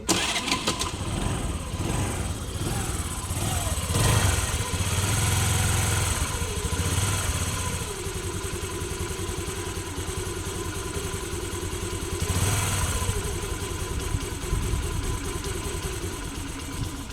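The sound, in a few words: vehicle engine starting and idling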